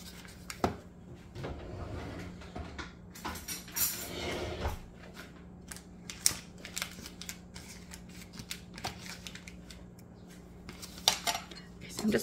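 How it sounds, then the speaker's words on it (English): Butter whisked into ganache in a bowl, quiet irregular scraping and clinking of the whisk against the bowl with scattered louder taps, close and otherwise fairly hushed. "I'm just gonna whisk that in to melt it."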